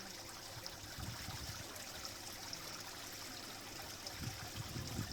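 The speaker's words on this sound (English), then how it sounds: "Feel the cleansing force of the water as it pours over your head." Water streams and tumbles steadily for several seconds in a continuous, even rush, fairly close, with no voices.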